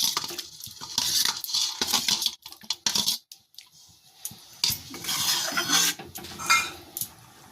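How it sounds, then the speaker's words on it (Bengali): A metal spoon stirs a bubbling egg curry in a pan, with repeated close clinks and scrapes against the metal and short pauses between strokes. "দেখুন ঝোলটাও ফুটছে, একটু হালকা হাতে নেড়ে নিলাম।"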